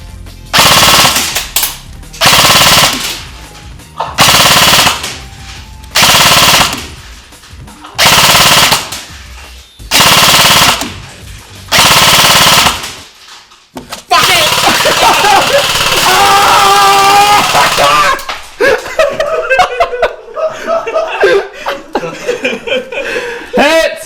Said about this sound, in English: We're going to fire off a few bursts on full auto, which is stupidly fast with this gun